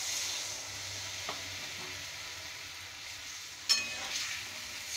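A curry of turmeric and water is stirred in a pan with a soft, faint hiss and sizzle. A few light clinks of the spoon against the pan sound near, and no voices are heard.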